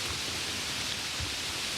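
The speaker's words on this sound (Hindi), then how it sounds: "बारिश रुकने का नाम ही नहीं ले रही थी।" Heavy rain falling steadily as a dense, continuous hiss with no breaks, loud and even throughout with no voices.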